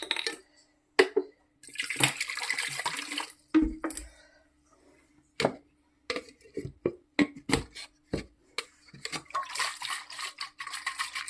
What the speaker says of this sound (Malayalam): ഈ മിക്സി കഴുകിയ വെള്ളം ഒഴിക്കാം.